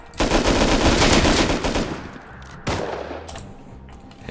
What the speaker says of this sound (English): there's a guy up there shooting me